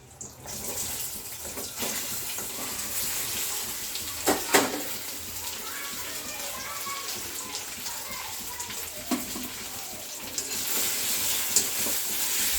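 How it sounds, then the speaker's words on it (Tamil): Pieces of colocasia (taro) frying in hot oil in a kadai give a steady hiss and crackle with occasional sharper pops, close and even throughout. "சேமக்கிழங்க அதில் போட்டு பொரிக்க வேண்டியது"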